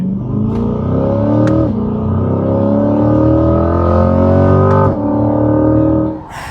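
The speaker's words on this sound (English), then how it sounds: "let me put this thing in the manual for a second. All right, ready? Let's get up in the second gear." Chevrolet Corvette C8 Stingray in manual mode pulling hard in second gear, a loud close engine note rising steadily in pitch with a brief dip at a shift before climbing again, then easing off at the end.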